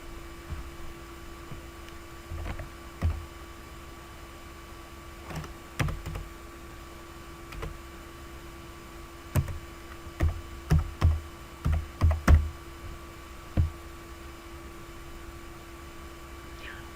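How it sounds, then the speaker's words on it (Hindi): Scattered keystrokes on a computer keyboard while an address is typed, sparse soft taps at first, then a quicker cluster of sharper clicks over a low steady hum. "तो यहाँ पर हम अपना एड्रेस टाइप करते हैं।"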